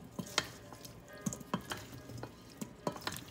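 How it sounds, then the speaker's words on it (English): Warm potato salad tossed in a bowl with olive oil, capers, tomatoes, parsley, salt and pepper: soft, intermittent scraping and clinking strokes, close and quiet, spaced irregularly with brief pauses between. "We're gonna mix it up and let it set for a few minutes so all the flavors can intertwine"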